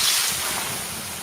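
Water hitting 800-degree sauna rocks gives a broad hissing, steaming rush, fairly close and steady, fading slightly over a brief moment.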